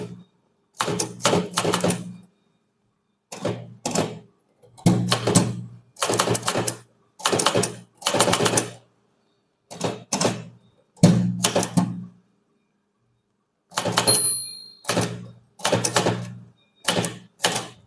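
Manual typewriter typing an English junior statement exercise, loud, close bursts of rapid key strikes separated by short silences, with a carriage bell ding and heavier thunks between lines.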